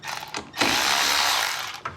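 A power tool whirs for about a second as it loosens the negative battery terminal on a Ford vehicle, close and loud, framed by brief clicks and tool handling.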